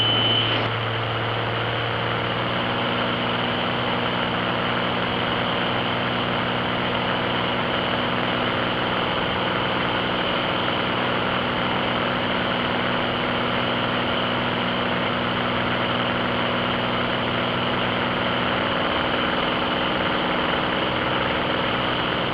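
Cockpit recording of a Beechcraft Bonanza V35B piston engine with the power pulled back, a steady, loud, droning hum with a low throb that holds evenly throughout without a break.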